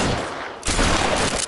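Rapid gunfire bursts out in the L.A. Noire VR game on PS4, a dense volley of loud, close shots after a short lull, continuing for about a second.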